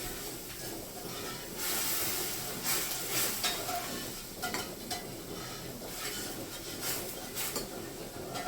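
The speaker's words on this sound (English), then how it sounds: "Stir the pan." Scotch broth being stirred in a pan on the stove: a steady scraping, sizzling swish with faint clinks of utensil on metal, fairly close and continuous with no voices.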